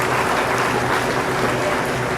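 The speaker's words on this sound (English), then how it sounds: "Congratulate all of our Shorthorn Plus exhibitors with a round of applause" Spectators at a junior heifer livestock show at the Illinois State Fair give a steady round of applause for Shorthorn Plus exhibitors, a broad wash of clapping in a large arena with a low background hum.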